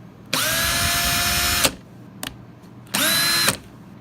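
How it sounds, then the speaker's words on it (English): A Makita 12V cordless drill/driver whines loudly in two bursts, a long run of over a second followed by a shorter one, with quiet gaps and small clicks between them. "Next we got the drill."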